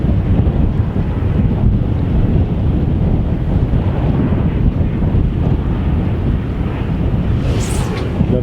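A strong side wind on the South Wales coast buffets the microphone with a loud, constant low roar, joined by the wash of surf, steady throughout with no voices.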